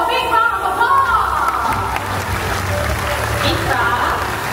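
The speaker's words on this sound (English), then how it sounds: "So let's give them both a big round of applause." Applause from an audience at a bird show in Mandai Bird Paradise, Singapore, a steady broad wash of clapping throughout with crowd murmur and a voice talking over it.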